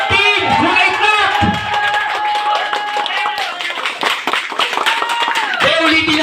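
Audience applause for a contestant at a dance contest, bursts of clapping and some cheers mixed with people talking, close and steady over several seconds.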